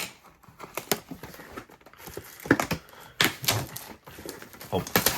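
Tearing and crinkling as a Topps trading card box, a 2026 Series 1 super box, is ripped open, dense rustling and ripping noises in irregular bursts, loud and close, with a voice partly underneath.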